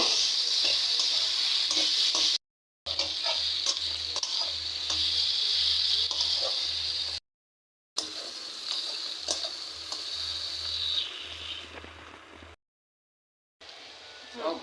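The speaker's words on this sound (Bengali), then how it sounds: "এখন পেঁয়াজটা ভাজে নিব" Salted onions frying in a pan, a steady close hiss and sizzle broken by a few brief gaps, with stirring scrapes over it. No one talks.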